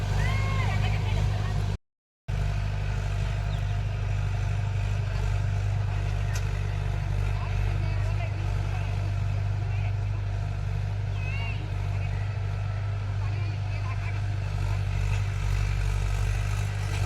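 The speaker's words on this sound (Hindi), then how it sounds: "धान जब जोतावत है तब खेत है और ट्रैक्टर चलत है" A tractor ploughing a flooded paddy field in Chhattisgarh, heard as a loud, steady low engine drone that runs throughout with only a brief dropout near the start.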